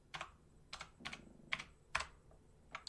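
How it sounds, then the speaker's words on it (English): Quiet keystrokes tap out on a computer keyboard, about six distinct clicks spaced irregularly, close and faint, with no talking. "So we can start typing that in here."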